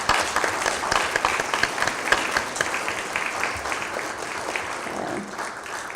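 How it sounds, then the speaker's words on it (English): Audience at a UNA-USA annual business meeting applauding, a dense, steady wash of many hands clapping that fades slightly toward the end, heard from within the room. "we'll give them a round of applause"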